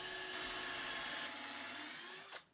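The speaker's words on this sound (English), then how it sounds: "If you use a long drill bit like this" Power drill boring with a long drill bit into the wooden legs of a coffee table, drilling dowel holes in a workshop, a steady close whine that runs for about two seconds and then winds down abruptly.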